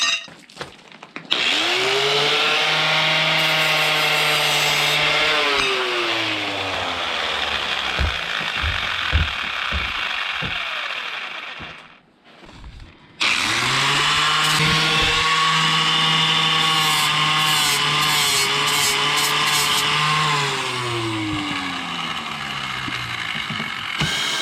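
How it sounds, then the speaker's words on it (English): A backing plate is cleaned up with a power sanding pad: a loud, steady mechanical whine with shifting pitch runs in two long passes, separated by a brief pause midway, with no talking. "Now I gotta clean it up quite a bit with this sanding pad."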